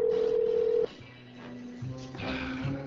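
A telephone dials a call back during a radio show prank call, with a steady tone cutting off into a series of short dialing beeps and line tones, clear and close, without speech.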